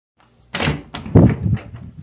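Front door of a home being opened, heard up close as a latch click followed by a couple of solid thunks and rattles as the door swings.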